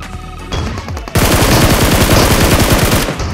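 Rapid shotgun blasts from the video game PUBG, a dense run of loud repeated shots after a quieter opening with game ambience, the firing continuing almost without pause to the end.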